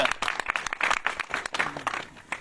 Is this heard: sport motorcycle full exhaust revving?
no